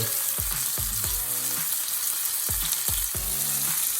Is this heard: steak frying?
yes